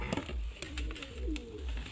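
Domestic pigeons from a large flock of about 150 to 200 birds coo in low, throaty, repeated murmurs close by, with several overlapping calls and a few light clicks and rustles.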